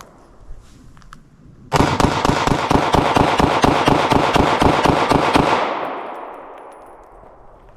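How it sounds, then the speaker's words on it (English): Sixteen rapid gunshots from a Glock 43x subcompact pistol, loud and close in a fast, even rhythm lasting about four seconds, followed by a ringing decay. "we're going to rapid dump 16 rounds down this thing"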